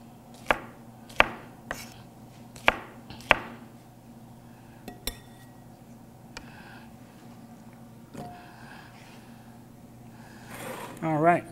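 A knife chops through vegetables for a kohlrabi, beet and snap pea salad, giving about five crisp board chops in the first few seconds, then a few scattered taps and kitchen clatter, with no talk heard.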